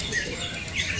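Songbirds chirp and trill at a bird singing contest in Cibinong, a faint brief burst of high calls over a noisy outdoor background.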